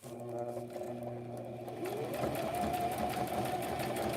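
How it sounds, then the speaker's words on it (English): A sewing machine stitches a strap onto a soft cover made from an Amazon mailer, giving a steady, loud, close mechanical whir that picks up speed partway through, with no talk. "Then we'll get our strap sewn on."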